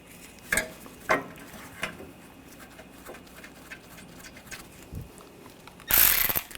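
A ratchet tightens the radiator bracket bolts on a 2013-2022 Buick Encore 1.4L. Short bursts of clicking and metallic tool knocks are spaced apart, ending in a louder, denser burst of ratcheting.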